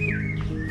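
A common hawk-cuckoo calling in a mango orchard: a single short, clear whistled note that slides downward, heard alone at moderate distance.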